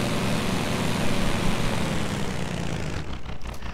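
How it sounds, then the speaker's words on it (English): A simulated car engine in an Unreal Engine 4 vehicle, a loud continuous broadband roar that shifts as the car accelerates and then thins out near the end, with no talking over it. "as we're accelerating, the engine sounds actually change"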